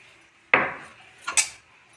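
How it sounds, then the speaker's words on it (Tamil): Sweet black rice being mixed with sugar and grated coconut in a bowl, heard as two short scraping clatters of a utensil against the bowl, close and clear in a quiet room. "சேர்த்துட்டு இப்போ நம்ம இதை நல்லா மிக்ஸ் பண்ணிக்கலாம்"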